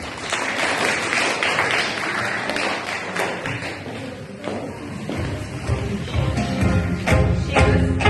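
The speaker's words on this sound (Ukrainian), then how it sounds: "Ваші оплески." A church community audience at an Easter celebration applauds after a trio sings a folk song, steady clapping with some rhythmic patter mixed with background music and room noise, moderately loud.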